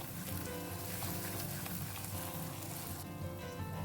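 Masala frying in oil over a medium flame, giving a continuous dense sizzle and crackle that holds steady throughout, close and even.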